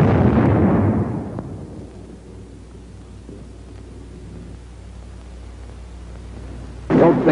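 Bazooka rocket launched at a sandbag enemy emplacement in WWII combat, a loud booming blast that decays over about two seconds into a low rumbling tail, followed by a second sharp burst near the end.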